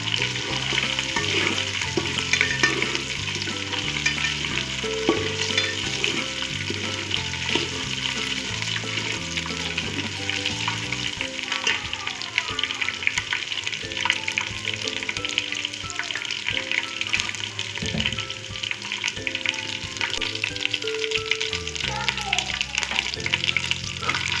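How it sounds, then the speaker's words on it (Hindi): Spices sizzle and crackle in a hot pan while cooking chicken korma, steady frying noise with occasional stirring scrapes, under soft background music. "सिर्फ 1 मिनट के लिए हम इन दोनों चीज़ों को फ्राई करेंगे।"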